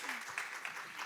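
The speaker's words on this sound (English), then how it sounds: "Virtual applause." Brief applause at a business summit session, broadband patter at a low, steady level for about a second.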